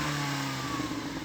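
An older-generation BMW M3 engine revs briefly, a steady mid-pitched engine tone that rises slightly in pitch, close and loud, with no talk over it.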